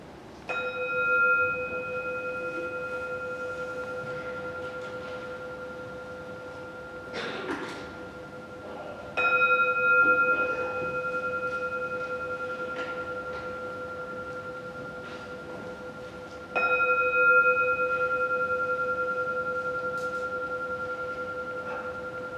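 A church bell rings three times during a Sunday service at a Unitarian Universalist parish church in Groton, each clear tonal strike sustaining and fading slowly, evenly spaced in an otherwise quiet room.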